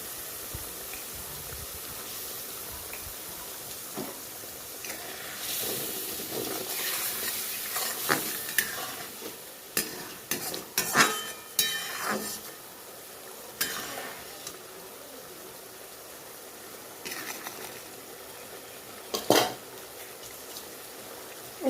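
Cut crab pieces with crab roe and salt stir-fried in a pan, for salty crab with potatoes: a steady close sizzle broken by repeated scraping, clattering stirring strokes that grow busier midway.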